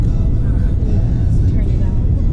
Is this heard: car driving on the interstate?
yes